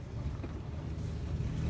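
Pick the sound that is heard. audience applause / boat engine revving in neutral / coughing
boat engine revving in neutral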